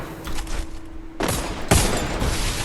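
Gunfire in the Free Fire video game comes as a quick run of shots, then bursts of loud rattling fire that grow heavier toward the end, with no talk over it.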